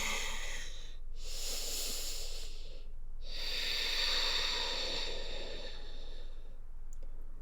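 Deep breathing during a gentle yoga flow in tabletop, slow airy inhales and exhales in long hissing waves, with two brief pauses, close and steady.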